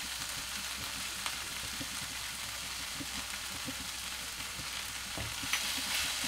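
Paneer sandwich filling fries in a pan with a steady, close sizzle and scattered soft stirring scrapes throughout, no voices.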